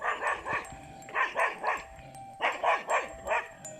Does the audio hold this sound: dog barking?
yes